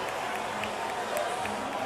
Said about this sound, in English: That sounds like cheers.